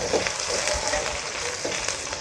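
Onions and garlic sautéing in a pan as the base of a chicken curry, a steady close crackling sizzle running throughout with a few faint stirring scrapes and no talk.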